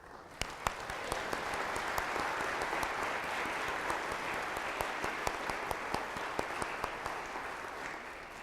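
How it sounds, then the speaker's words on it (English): A church congregation applauds the parish's young retreat participants, a steady, dense wash of clapping from many hands that stays even throughout, with scattered sharper claps standing out near and far. "We want to applaud them, encourage them."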